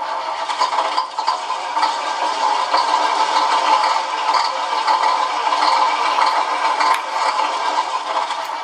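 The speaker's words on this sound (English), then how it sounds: "So now if I flip the switch, the engine's on." Radio-switched engine sound unit on a model vehicle runs at idle, a steady buzzing mechanical drone with a light rattle, continuous and fairly loud with no talking.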